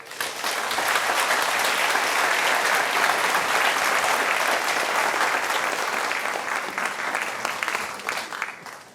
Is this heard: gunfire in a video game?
no